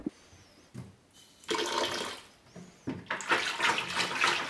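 Water is poured into a pottery ash glaze made from pitfire ashes, in two splashing bursts separated by short pauses, loud and close.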